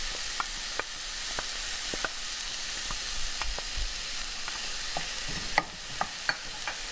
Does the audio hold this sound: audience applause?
no